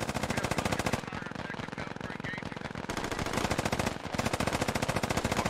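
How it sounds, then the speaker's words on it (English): Heavy automatic gunfire in a military shooter game, a dense continuous rattle of rapid machine-gun bursts that never lets up, loud and close throughout. "The amount of gunfire going off right now."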